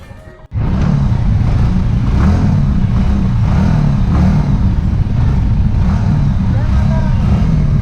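Motorbikes setting off from Jammu toward Srinagar on a ride to Ladakh, a steady loud engine drone that starts abruptly and holds close and continuous with no break.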